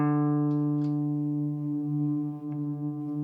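A TC Electronic Infinite Sample Sustainer pedal holds a steady sustained sample layer, a dense harmonic drone that rings continuously and evenly with a slight swell midway, with no talking over it.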